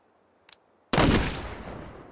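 A single loud, close rifle shot from an MRAD sniper rifle chambered in .338 Lapua, fired into a gel block, booms sharply and then trails off in a long decaying echo, with a faint click just before it.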